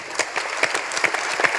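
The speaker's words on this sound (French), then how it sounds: "Alors je vous propose d'applaudir ACC" Conference audience applauding a battery company, a steady burst of many hands clapping close and lively, with individual claps standing out over a dense crowd wash.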